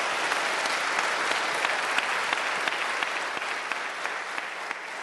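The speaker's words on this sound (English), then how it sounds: "Give yourselves a warm round of applause." A sustained round of audience applause fills a gathering after a religious address, dense, steady clapping from a large crowd that holds even throughout with no talk over it.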